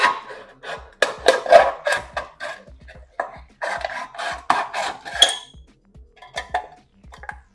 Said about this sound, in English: Aluminum can,